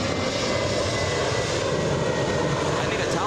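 A fixed-wing airplane at Los Angeles International Airport roars steadily and loudly, a close, continuous engine rumble filling the whole moment without letup.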